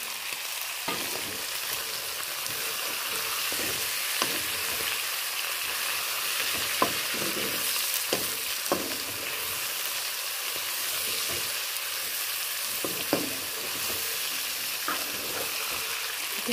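Duck meat fries with tomatoes, potatoes and green chillies in a pan on a gas stove, giving a steady close sizzle, while a spatula stirs and scrapes now and then with soft clinks, and nobody speaks.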